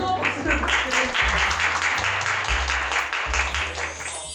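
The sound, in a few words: audience applause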